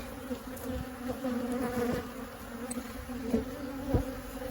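Honeybees swarm and buzz angrily around an open single brood chamber hive, a dense, continuous close-up drone with individual bees rising and passing near.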